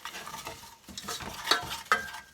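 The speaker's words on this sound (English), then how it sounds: "Let's stir this up." A ginger spice mixture for pecans is stirred in a pan, with soft scraping strokes and a faint simmering sizzle. Two sharper clinks of a spoon against the pan ring out near the end.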